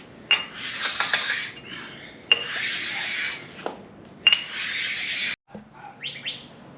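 Sharpening stone rubbed across the deck surfaces of a 6.0 LS engine block, such as the oil pan rail and valley cover surface, three sustained scraping passes with brief gaps, close and clear with no speech.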